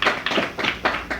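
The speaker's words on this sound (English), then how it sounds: "Your applause is very welcome." A small audience at a 2019 panel discussion on politics and public discourse claps briefly, a few loose bursts of hand claps over about a second, close and moderately loud with no talking.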